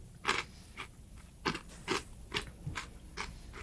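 Loud, close crunching bites and chewing of crisp food, repeating in a steady rhythm of about seven or eight crunches.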